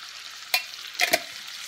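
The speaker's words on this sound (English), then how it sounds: "And then I'm gonna need to put in some onion. And all I'm doing is toasting it up." Onion and garlic toasting in a hot pan give off a steady faint sizzle, with a few louder stirring scrapes near the middle and a short cluster toward the end.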